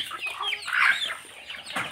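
Chickens cluck repeatedly in a backyard village coop, a hen currently laying eggs, with a rooster also kept nearby; the calls come close and moderately loud in short bursts with no talk over them.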